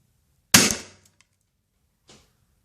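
A real gun fires a Lego piece as its projectile: one sharp, loud report that rings off quickly, followed about a second and a half later by a fainter short burst.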